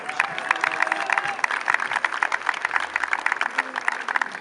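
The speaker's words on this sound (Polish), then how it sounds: "Wielkie brawa!" A crowd applauds Piotr Cyrowski at a Wejherowo event on 3 May 2022, with steady, dense clapping running the full length and a few voices mixed in.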